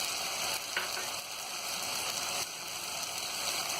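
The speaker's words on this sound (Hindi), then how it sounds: "अब इसी में हम अदरक लहसुन का पेस्ट डाल देंगे। इसी में हरी मिर्ची डाल देंगे।" Ginger garlic paste and green chillies fry in a pan for egg biryani, giving a steady, even sizzle that stays fairly quiet and close throughout, with no talking.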